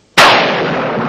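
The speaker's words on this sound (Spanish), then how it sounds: "¿Podría llover?" A sudden loud thunder crack with heavy rain, a sharp burst that rolls into a dense, sustained rushing wash, close and alone with no voices.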